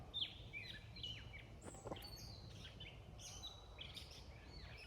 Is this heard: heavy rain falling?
no